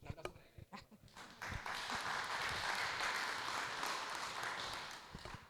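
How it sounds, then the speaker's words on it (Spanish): A class in a Spanish-language labor law lecture applauds to welcome the professor, a dense, steady patter of clapping that swells after a brief pause and holds for several seconds before tapering off. "Un aplauso para ella."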